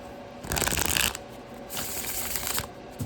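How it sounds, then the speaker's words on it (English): Two quick bursts of cards being riffle-shuffled close up, a crisp papery flutter, with a short pause between them and a small tap at the end. "This deck also shuffles really well, I'm pretty sure."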